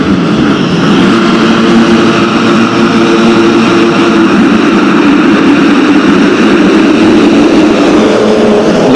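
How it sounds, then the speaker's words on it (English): A loud, sustained roar of many motocross bikes revving hard together at the race start gate, a dense wall of droning engine noise with no pauses. "The revs will go and the gate will drop."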